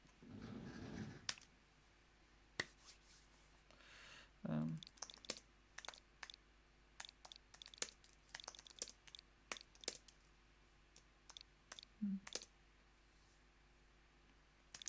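Typing on a USB keyboard plugged into a Nintendo Switch: scattered, crisp key clicks in irregular bursts, close and fairly faint, with a brief rustle near the start.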